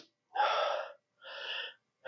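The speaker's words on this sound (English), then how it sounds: "I'm so fucking out of breath." Heavy, out-of-breath gasping after a back workout: two long, loud, close breaths in a slow rhythm, with no talking.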